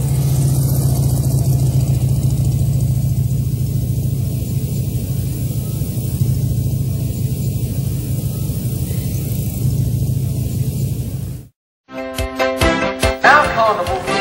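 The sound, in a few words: 1930 Scott Tourer motorcycle engine running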